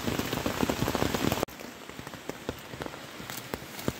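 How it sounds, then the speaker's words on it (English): Rain patters on a tent on the Appalachian Trail, a dense close drumming at first that suddenly drops to softer scattered drips and taps, with no voices. "it's still raining. It's been raining like this all day."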